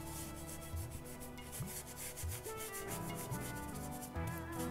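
A brush scrubs oil paint stain into canvas in a steady, close, quiet rubbing rhythm of short repeated strokes, with no talking.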